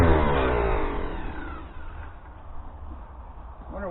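The engine of a 1941 Farmall M tractor revs after carburetor work, starting loud and high, then winding down to a steadier, quieter idle with a slight rise at the end.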